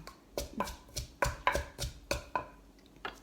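Papaya salad (som tam) pounded in a mortar with dried and fresh chilies, about ten sharp knocking thuds in an uneven rhythm, close and clear with no talk over them.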